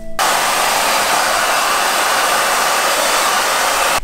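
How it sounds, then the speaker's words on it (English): A hair dryer blows steadily at close range, a loud continuous airy roar that begins abruptly and runs without a break, with no voices. "Let's go home and use the hair dryer."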